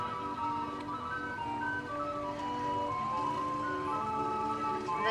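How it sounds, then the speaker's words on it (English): A Shriners calliope rolls by in the Troutdale Summerfest street parade, its steady, bright whistle-organ tune playing continuously at moderate loudness with faint crowd ambience underneath. "here comes the calliope"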